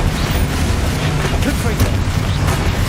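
Confringo spell blasts in Hogwarts Legacy go off as dense, noisy bursts that run steadily throughout, with a voice talking over the sound.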